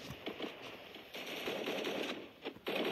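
Rapid automatic gunfire from the video game Free Fire rattles in quick uneven bursts, close and fairly loud, over about three seconds, with no talking.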